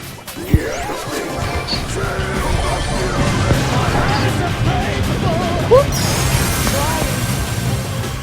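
Walls smashing and crashing in a shooter game, heavy impacts and rumbling debris over a dense, continuous din of game sound effects, with a few sharp hits standing out.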